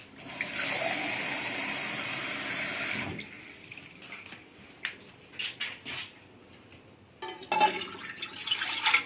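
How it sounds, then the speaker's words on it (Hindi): Tap water gushes steadily into a big cooking pot in a home kitchen for about three seconds. Quieter clinks and handling noises follow, then a second burst of running water near the end. "वो एक बड़ा सा पॉट है, वो आप लेंगे और उसमें आप तकरीबन 2 कप पानी भर दें इसमें।"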